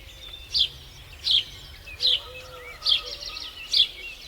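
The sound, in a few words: sparrow chirping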